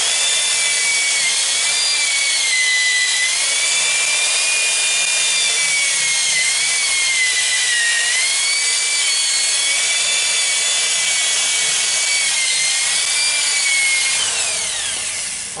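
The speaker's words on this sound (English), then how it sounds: "So we'll start at 320 and go up to 420, maybe 600 on this one." A 320-grit sandpaper disc on a drill sands walnut with a steady, bright, close whirring rasp that runs without a break and then tapers off at the end.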